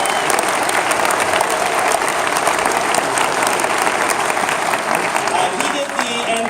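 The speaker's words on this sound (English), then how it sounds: "we should clap for him anyway" Sustained applause from an audience at a book event, dense steady clapping filling the whole stretch without a break, loud and close.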